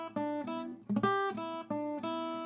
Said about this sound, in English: We're basically climbing up the open E blues scale, and the first couple of notes go like this.